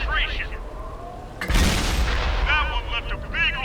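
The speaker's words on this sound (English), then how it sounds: "this allows me my 5 shells to be ploughed into the side of the T30" Tank cannon shell slamming into a T30 in World of Tanks: a single loud, sharp boom midway through, followed by a rumbling decay under game ambience and chirpy interface tones.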